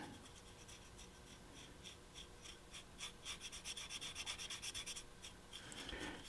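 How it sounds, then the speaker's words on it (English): Wet brush scrubbing joint compound off the face of HO scale model brick, a quiet close scratchy rubbing that starts irregular and turns into a quick run of rhythmic strokes, with no voices. "And really scrubbing the joint compound off of the face of the brick."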